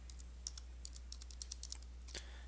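Password typed on a computer keyboard, a quick irregular run of soft, close key clicks over a low steady hum, with no talk.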